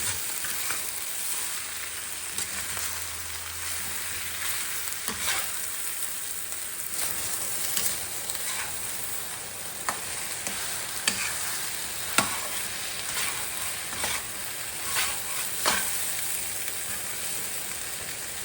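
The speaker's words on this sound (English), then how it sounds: "all I gotta do is mix it with this rice, and then I'll heat it right up" Thawed vegetables and rice stir-fry in a pan for fried rice, a steady dense sizzle running throughout with scattered scraping and clicking stir strokes, close and fairly loud with no talk.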